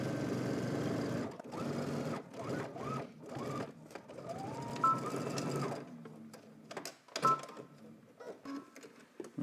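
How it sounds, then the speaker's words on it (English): A sewing machine stitches across the shoulder seams of a garment at a 5/8-inch seam allowance, running in short bursts and longer runs with clicks and pauses between passes. "so now we're going to head to the machine. We're going to stitch across both shoulders using 5/8 of an inch seam allowance."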